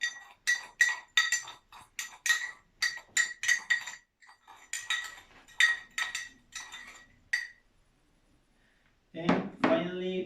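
Spoon clinking against a glass bowl while sugar, black and red pepper and lemon zest are mixed, a rapid run of sharp bright taps for several seconds, a pause, then a louder scraping burst at the end.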